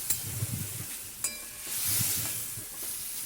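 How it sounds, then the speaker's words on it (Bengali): Garlic sizzling in a hot pan as cooked water spinach is tipped in, a steady close fry hiss that swells into a louder burst of sizzle, with light scraping and stirring. "এইবার আমি রসুনটা ভেজে নেওয়ার পর এইবার ওই রান্নাটা ওর মধ্যে ঢেলে দিলাম"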